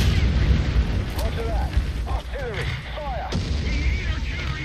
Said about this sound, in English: We're gonna call in artillery.